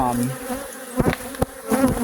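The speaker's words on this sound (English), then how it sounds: "dump the bees in" Honey bees being relocated into bee boxes hum close by with a dense buzzing drone, with a few louder swells and bumps of handling in between.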